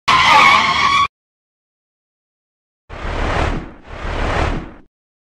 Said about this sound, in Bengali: কিছু দূর সামনে যাওয়ার পর আমি সেখানে বাইক থামালাম।